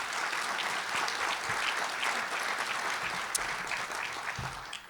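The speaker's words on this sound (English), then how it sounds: "Please, another round of applause for all of our panelists." A breakfast audience applauds the panelists, a full, even round of clapping that holds steady before tapering off at the very end.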